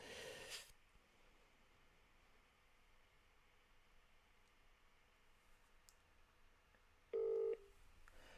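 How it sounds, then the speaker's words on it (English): A phone call being dialed: after a brief rustle and long near-silence, a single short, loud electronic phone tone sounds near the end. "I'm going to call Johnny on my phone"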